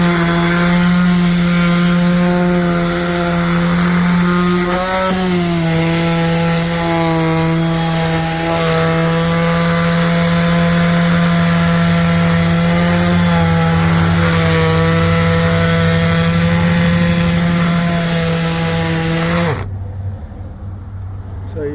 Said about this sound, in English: I'm gonna sand it with just a normal 5-inch DeWalt palm sander here.